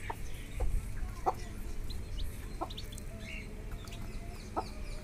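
Eight-day-old chicks of a native country chicken breed in a poultry brood, scattered near chirps and peeps over a low rumbling background, with a few louder calls standing out.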